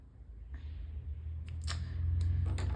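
A few quick scissor snips cut through paper near the end, crisp and close, over a low background hum with no talking.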